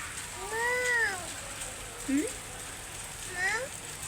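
A cat sitting outdoors in the rain gives three short meows a second or so apart, fairly close and clear over a soft background hiss.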